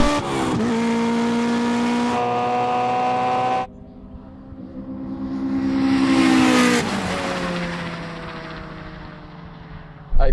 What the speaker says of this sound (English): I was spinning the tires probably the whole first gear